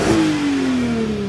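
A Volkswagen Golf R32 engine revs up close and loud, then its note sags steadily as the revs fall away over a little more than a second.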